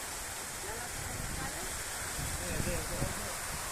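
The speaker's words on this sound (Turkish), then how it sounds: "Sakin yağmur abi. Bir şiddet iyi ya bir sakin." Calm, steady rain falling outdoors after months of dry weather, a soft continuous hiss at moderate distance with no distinct drops standing out and no voices over it.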